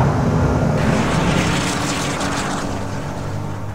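Nissan Juke-R engine roaring steadily through a track lap, loud and continuous with a broad, rushing tone and a slight shift in pitch partway through, no talking.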